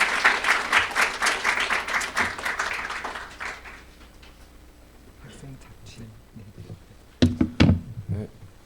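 Loud audience applause at a Korean ESG academic forum fills the first few seconds as a student is introduced to present, then fades into quiet room noise before a few brief knocks and shuffles near the end.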